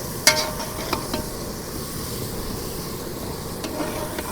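One and a half kilograms of onions fry for biryani in a pan, giving a steady close sizzle and hiss with a few sharp clinks of stirring near the start.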